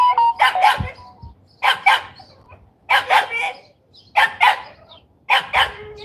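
Several dogs barking in repeated bursts at a home, clusters of loud overlapping barks coming roughly once a second with short pauses between.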